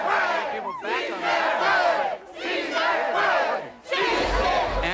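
A protest crowd spilling off the sidewalk into the street shouts and roars in loud, sustained bursts, with two brief dips between waves of massed voices.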